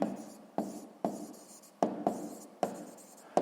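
A pen moves over paper while a math solution is written out by hand, giving quiet, close scratchy strokes, each starting with a small tap, in an uneven, steady rhythm.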